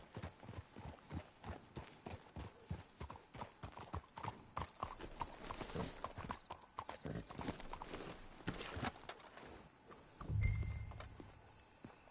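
Steady clip-clop of horse hooves at a brisk, even trot in Red Dead Redemption 2, with a brief snort or low rumble near the end.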